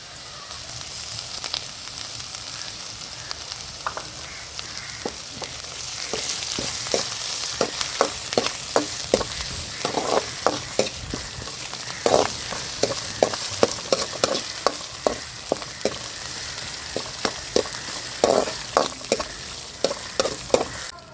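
Onions frying with crushed ginger and garlic for chicken wings: a continuous oily sizzle punctuated by many quick, rhythmic spatula scrapes and taps on the pan, close and loud, with no talking.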